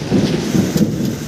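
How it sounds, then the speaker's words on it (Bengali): Thunder rumbles over heavy rain falling in a village, a low rolling roar close by with a constant downpour washing underneath for the whole short stretch. "তো বাজ পড়ছে।"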